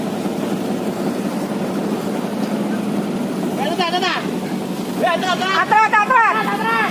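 A small Alkon portable water pump engine runs steadily during a ship fire at a shipyard in Juwana, Pati, its continuous drone heard under background voices and shouting.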